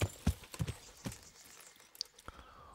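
Horse hooves in Kingdom Come: Deliverance, a few quiet, uneven clip-clop thuds spaced through a mostly still stretch, close by and unaccompanied by talk.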